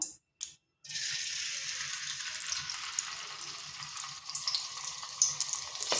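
Palm-fruit pitha batter drops into hot oil in a wok, setting off a steady, close sizzle with scattered crackles and pops that continues without any voices.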